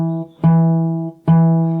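A fingerstyle guitar with a capo sounds a steady bass-note rhythm in a song: two sustained plucked notes with ringing harmonics, each struck firmly and left to decay, played alone at close range.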